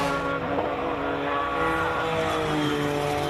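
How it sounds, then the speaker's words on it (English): Hillclimb race car at a King of the Hill event, its engine heard as a continuous raspy, buzzing roar with uneven, stuttering misfire tones, fairly close and alone without talk. "the car sounds like it misfires so badly"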